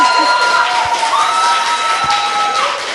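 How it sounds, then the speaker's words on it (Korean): A studio audience on a Korean talk show bursts into loud, sustained applause mixed with cheering and shouts, a dense wall of crowd noise with voices mingled in. "박수!"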